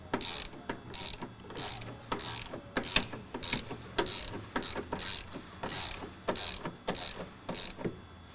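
A ratchet snugs a bolt on a fuel tank strap under a Mercedes Sprinter van, a quiet steady run of rhythmic clicking strokes heard close up.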